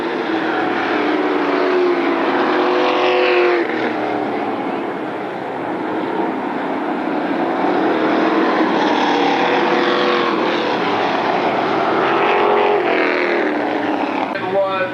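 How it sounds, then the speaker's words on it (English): Late model stock cars race at Berlin Raceway in 1999, a loud continuous engine roar that swells and fades as cars pass, with an announcer's voice over it. "Dave Lewis, number 36, the winner right there, the 8-lap Sportsman race."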